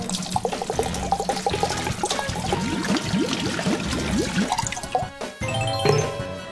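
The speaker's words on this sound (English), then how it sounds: "fill it with water." Water from a tap runs and trickles into a container for a children's sink-or-float science experiment, with splashing and rising gurgles that break off briefly near the end.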